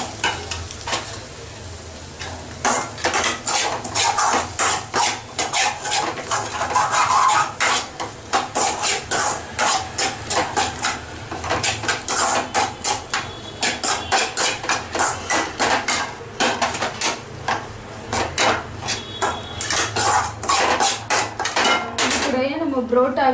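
Egg and salt are stirred and scraped around a hot pan for street-style kothu parotta, giving a steady run of close metallic scrapes and clinks over a constant sizzle that lasts throughout.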